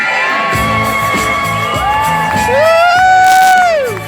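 A loud crowd in Sweden cheers and whoops continuously, with shouts rising over the roar and what sounds like a sung or wailed note sliding through it.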